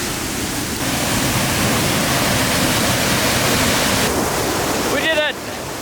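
A waterfall in an icy, snowy landscape rushes with a loud, constant broadband roar. A brief voice cuts in just before it ends.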